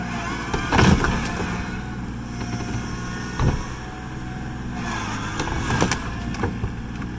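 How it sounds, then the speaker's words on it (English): A Massey tractor engine runs steadily, a low rumbling drone with a couple of louder bumps, out near a lakeshore where a wrecked boat is being pulled out. "I might be close enough to go grab the tractor and hook onto this thing and see if I can yank it out of here"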